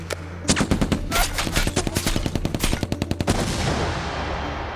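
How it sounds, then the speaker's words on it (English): Rapid automatic gunfire in the VR version of the Far Cry action game, a loud burst of closely spaced shots lasting a few seconds, then a fading echo. "I can sample shooting stuff in the VR version of blockbuster action franchise Far Cry"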